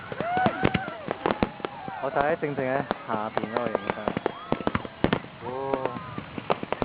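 Independence Day fireworks burst for July 4th in San Antonio, heard from directly beneath them near boats on the water: sharp, repeated bangs and crackles under constant close conversation.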